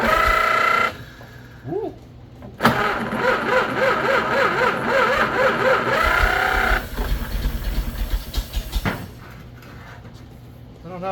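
A 1934 Chevrolet four-door sport sedan that has sat unused for 23 years cranks, catches and runs with a loud uneven idle, then stumbles and cuts out before a short whir near the end; a voice briefly calls out.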